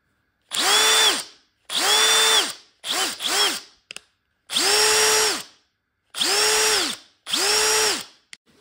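Parkside Performance PDSSAP 20-Li cordless impact wrench whirring in several short bursts, each about a second with a quick spin-up and wind-down, a couple of rapid double pulses mid-way, loud and close with no talk.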